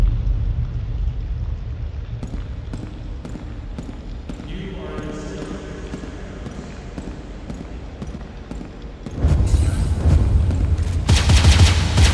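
Repeated booming blasts of cannon fire in the video game Foreclosed, a loud steady barrage of sharp thuds running throughout and swelling into a heavier, denser volley near the end, with no talk.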